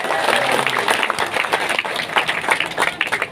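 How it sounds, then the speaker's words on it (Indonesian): Audience applause at a Kebumen regional government event with a boxing camp, a dense, steady wash of many hands clapping close by for the whole stretch, with faint voices mixed in. "Tepuk tangan buat Kebumen."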